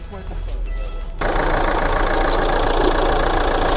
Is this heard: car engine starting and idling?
yes